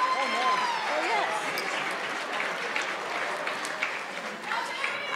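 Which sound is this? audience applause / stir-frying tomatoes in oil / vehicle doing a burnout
audience applause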